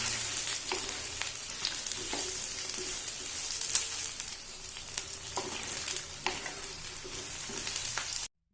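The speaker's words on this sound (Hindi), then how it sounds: "इनको हाई और मीडियम के दरमियान आंच रख के इसको फ्राई करना है हमने" Sliced onions frying in oil in a pan over medium-high heat, a continuous bright sizzle with occasional crackles and faint stirring clicks, close and alone until it cuts off abruptly near the end.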